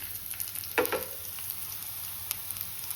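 Potatoes and garlic frying in a pan, a soft steady sizzle with a brief stir or scrape near the start and faint crackles throughout, no talk.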